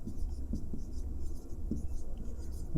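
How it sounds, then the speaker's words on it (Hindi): Chalk or pen scratches out short writing strokes in quick bursts during a physics lesson, the marks faint and close against a low room background. "चौथा पॉइंट लिखेंगे"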